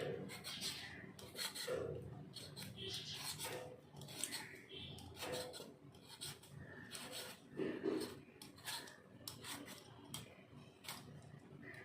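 A large potato being peeled by hand, soft rasping scrapes coming in short irregular strokes, quiet and close, with faint background sounds between strokes.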